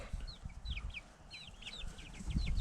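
Several young chickens on a homestead cluck and chirp softly nearby, with scattered high peeps over low rustling and outdoor background noise.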